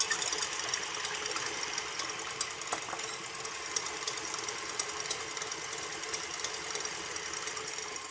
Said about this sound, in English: in my standing mixer, with the whisk attachment, I'm going to put 2 large eggs that are at room temperature